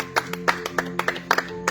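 Congregation clapping in a church service in Jusepin, Venezuela: sharp, uneven claps heard across a short burst, moderately loud, with a steady tonal hum and background music underneath.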